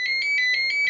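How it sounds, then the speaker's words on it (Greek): A mobile phone rings with an incoming call, a high electronic ringtone beeping in a rapid, even pattern of six short pulses, loud and close with no talking. "Με παίρνει τηλέφωνο."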